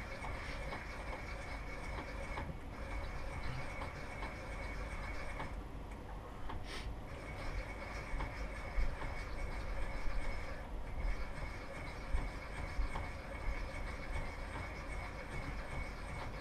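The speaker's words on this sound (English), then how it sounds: "So basically I'll lock it in, and I'll trim up all my cases." A Lyman case trimmer cuts brass cartridge cases with a steady, quiet whirring grind and faint rhythmic ticking. The cutting continues throughout with small swells, and no one speaks.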